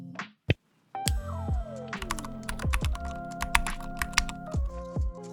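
Irregular keystrokes on a computer keyboard while a question is entered into a website FAQ block, crisp taps mixed with sustained tonal sounds and a short gliding tone.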